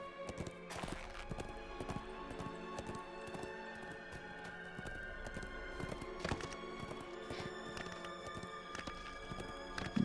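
Steady clip-clop of horse hooves along a travel route in the online game Lord of the Rings Online, a regular rhythmic beat running throughout over a constant bed of game ambience and music.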